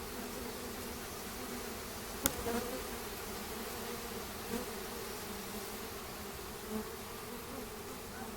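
Honey bees buzz steadily around an open hive during an inspection after smoking, a dense continuous drone of many insects close by, with a few brief knocks and bumps rising above it.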